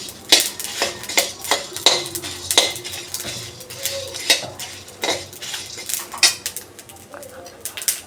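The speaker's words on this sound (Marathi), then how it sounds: "गरम मसाले सगळे आपण भाजतो आहे" Whole garam masala spices being dry-roasted in a pan, with a spoon giving irregular sharp clinks and scrapes against the metal, loud and close, separated by short quiet gaps.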